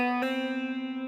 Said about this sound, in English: when you get to string 2, you're getting that hammer on